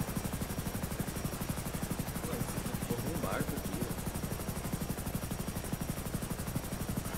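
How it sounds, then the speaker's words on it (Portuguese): A helicopter in a roleplay video game gives a steady, loud, rapid rotor thumping that runs unbroken throughout, with a faint voice briefly audible underneath. "você vai conseguir me jogar dentro do helicóptero, Steve?"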